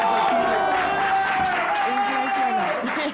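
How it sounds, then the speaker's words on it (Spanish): Audience applause and crowd noise fill the clip steadily, with a voice carrying over the clapping throughout. "un aplauso para la mujer sensible"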